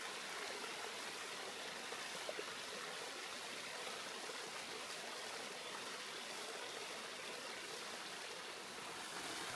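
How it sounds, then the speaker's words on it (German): Water gushes down rocks beside a gorge trail in Vorarlberg, a constant broadband rushing roar that stays even and close throughout with no other sounds. "Etwas später sprudelt das Wasser den Felsen neben dem Weg hinunter."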